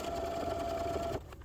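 A sewing machine runs a straight stitch in one steady, close, whirring burst that stops abruptly after about a second, leaving a brief quiet tail.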